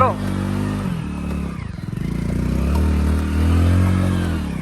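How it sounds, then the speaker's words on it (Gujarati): A motorcycle engine runs steadily on a rough road, its low rumble rising and falling slightly as the bike jolts along, close and continuous, with someone talking over it. "તમને અવાજ આવતો હશે બાઇકનો"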